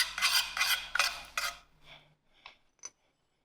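Golden syrup being stirred into a cooled sugar syrup, a few loud scraping, rubbing strokes of a utensil against the pot in quick succession, then fading into lighter, sparse clinks and taps.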